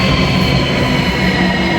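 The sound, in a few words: trains at a Russian station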